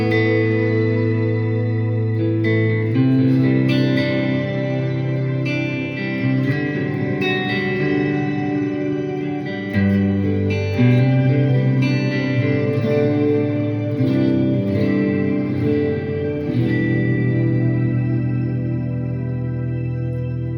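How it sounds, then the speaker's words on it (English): Guitar run through a shimmer reverb effect on a Boss GX-100 processor, sustained chords blooming into a bright, lush wash with airy high overtones, changing chords every few seconds and ringing continuously without talk. "this is the shimmer with the reverb"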